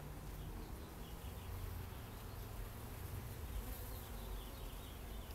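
Honeybees drone at an open hive during an inspection, a thick continuous buzz held at an even level throughout, with individual bees whining past close by.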